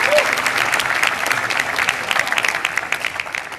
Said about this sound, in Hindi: इस वीडियो से आती आवाजें, तालियों की गड़गड़ाहट को गौर से पहले सुनिए।